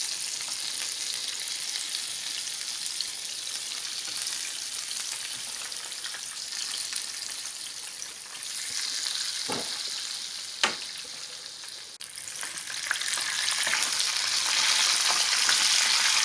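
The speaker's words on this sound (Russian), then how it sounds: "Добавляем внутрь кипящее масло." Hot oil sizzles steadily as Tatar meat pastries (peremyachi) fry, with boiling oil spooned into them; a continuous close crackling hiss rises near the end, broken by a few sharp spatters.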